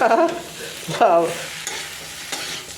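Vegetables and dried fish sauté in a pan with a few bursts of sizzling and stirring scrapes, each spike fading into a quieter steady fry.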